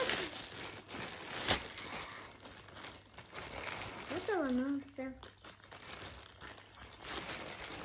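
Crinkly plastic packaging is torn open during an unboxing of an online-marketplace order, with soft rustles and a sharp rip near the middle, while a child and an adult talk over it.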